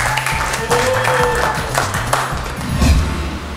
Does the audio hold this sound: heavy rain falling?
no